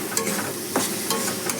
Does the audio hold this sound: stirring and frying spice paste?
yes